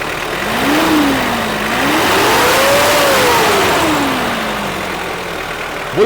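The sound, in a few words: Toyota Vios engine revving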